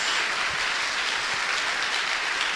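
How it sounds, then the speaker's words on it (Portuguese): A church congregation applauds together, a steady dense wash of clapping that fills the whole moment at even volume with no voices on top. "Dê uma salva de palmas ao nosso Deus."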